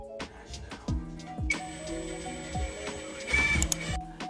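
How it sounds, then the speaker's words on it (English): Several short mechanical whirring bursts from a power screwdriver driving screws into a table, close and fairly quiet, with small clicks and knocks between bursts. "He's adding some screws to the table, so for extra security"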